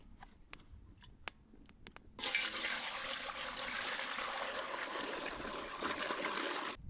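Water poured into a pot for boiling potatoes at an outdoor riverside cooking spot: a few faint clicks, then a steady rushing pour that continues for several seconds before cutting off.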